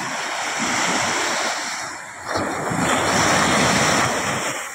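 Ocean waves wash onto a beach in a loud, steady roar mixed with wind, with a fresh surge building partway through.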